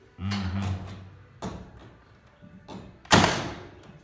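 A first-generation Milwaukee nail gun fires a few nails into beadboard ceiling boards in an old jailhouse back room, giving several separate thumps, with one dull, muffled shot and one sharp, much louder crack near the end.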